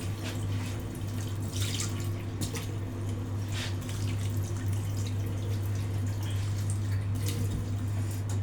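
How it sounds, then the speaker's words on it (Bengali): Water trickles and drips steadily into a pot of chicken, a continuous close pouring sound over a low steady hum, with no talk. "একটুখানি পানি দিয়ে দিলাম"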